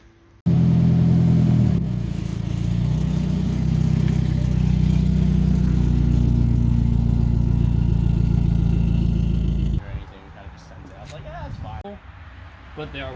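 A car towing a trailer pulls in with its engine running steadily and fairly loud and close. The engine note holds for several seconds, then cuts off abruptly, leaving quieter background noise and faint voices.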